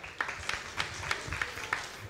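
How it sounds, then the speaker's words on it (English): Audience at a magic show claps in a steady, even rhythm, roughly three beats per second, as a reluctant volunteer stands up. The claps sound fairly distant and soft over a low background murmur. "Everyone give Steve a round of applause as he stands up."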